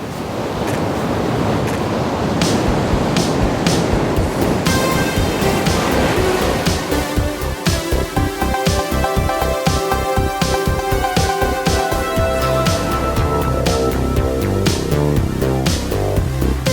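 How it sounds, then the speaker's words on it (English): Ocean surf at Ocean City, Maryland, a broad continuous rushing wash of waves that soon has music layered over it for the rest of the recording. "I recorded The Ocean over in Ocean City, Maryland is where I went."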